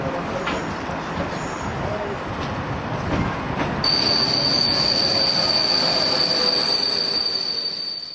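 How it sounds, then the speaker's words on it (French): A Czech Schienenbus railcar shuttle train pulls into position, with rumbling wheels on the rails and a sustained high wheel squeal that sets in partway through and carries on steadily to the end. "Voilà notre navette qui se met en place."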